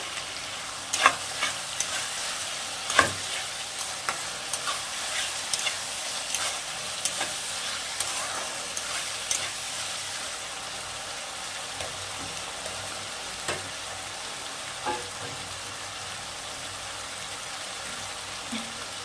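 Chopped tomato frying in a pan for a spicy mutton curry, stirred over and over, with a constant sizzle punctuated by sharp clicks and scrapes of the spoon against the pan.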